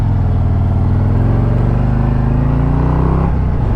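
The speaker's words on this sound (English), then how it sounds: "Crazy fun motorcycle." A 2022 Harley-Davidson Street Glide ST bagger being ridden, its big V-twin engine giving a loud, steady, close throbbing drone that rises in pitch under acceleration, then drops sharply near the end as the rider shifts.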